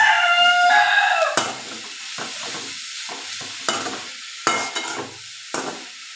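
A spoon stirs and mixes leaf thoran in a pan, producing a series of separate scraping strokes over a soft sizzle, with a rooster crowing near the start.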